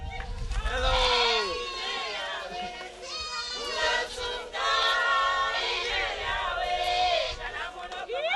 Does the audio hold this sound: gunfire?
no